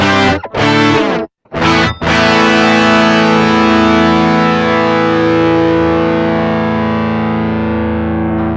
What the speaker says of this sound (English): just good old Hex Fuzz